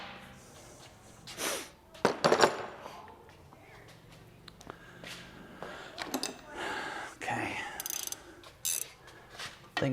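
A ratcheting wrench works during a suspension lift on a Honda Ridgeline pickup, giving short bursts of quick metallic clicking between pauses, close up, with clanks and faint handling noise around them.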